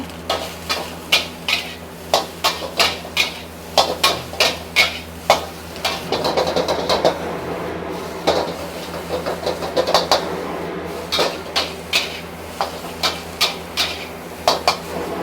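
Fried rice with spring onions being stir-fried in a pan, a spatula scraping and clanking in a quick steady rhythm over a continuous sizzle, loud and close.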